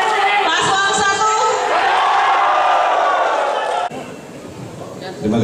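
Crowd at a 2018 Minahasa regent election debate erupting in loud cheering and applause for candidate pair number 1, whoops over the clapping before the noise cuts off abruptly and quieter hall ambience follows.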